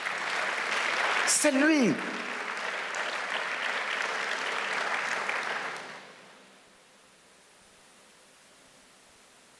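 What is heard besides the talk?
applause from a church congregation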